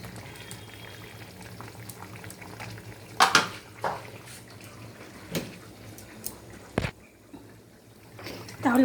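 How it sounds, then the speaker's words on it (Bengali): Hilsa fish curry with eggplant and water boils in a pan, a soft bubbling simmer with occasional clinks and knocks of a spoon against the pan. "দেখতে পাচ্ছ বন্ধুরা কি সুন্দর ফুটছে।"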